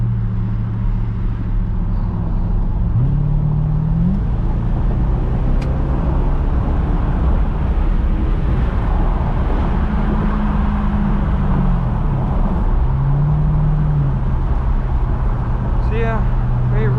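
A Ford Thunderbird driving, heard from inside the cabin: a steady engine drone and road rumble with low gear-change swells, continuous and fairly loud throughout.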